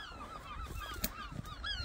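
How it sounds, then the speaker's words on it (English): Seagulls calling near a bromine plant, a run of repeated wavering, honking cries layered over each other at close to moderate range, with a brief rustle midway. "Seagulls are trying to attack me."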